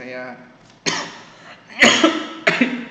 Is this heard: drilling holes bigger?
no